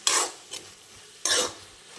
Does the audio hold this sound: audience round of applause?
no